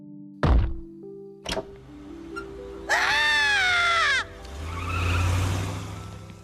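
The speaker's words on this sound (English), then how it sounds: "there's a thump at the door" A thump at the front door in an animated comedy scene: a sharp heavy knock early on, then a second softer hit, followed by a tonal screech and a low rumbling swell.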